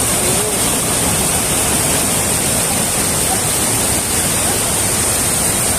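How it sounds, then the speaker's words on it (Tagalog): A strong river current at Talon Pari Falls in Bulacan makes a loud, steady, broadband rush of falling water that fills the scene without a break. "Lakas ng agos."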